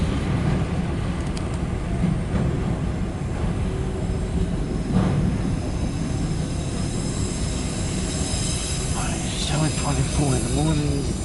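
A loaded CSX autorack freight train rolls past at a steady, continuous rumble that fills the whole stretch, with faint squeals and clatter rising near the end.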